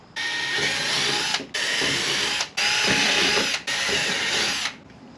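A power driver screws a flat igniter plate down for a homemade potato cannon, whirring loudly in four sustained bursts with brief pauses between them.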